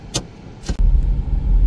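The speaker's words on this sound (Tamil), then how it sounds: "guys car ஓட்டுதேன்," Car being driven by a learner on the road, a steady low engine and road rumble up close, with two brief clicks or knocks near the start and no talking.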